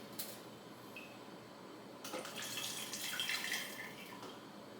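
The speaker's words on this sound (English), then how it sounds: "pour a bit into the next one" Kombucha pours and splashes into a jar for a couple of seconds, preceded by faint clinks and quiet handling in a calm room.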